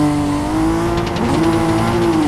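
A six-cylinder car engine races in a virtual racing game, a loud steady high-revving drone that climbs slightly in pitch, close and continuous with no pauses.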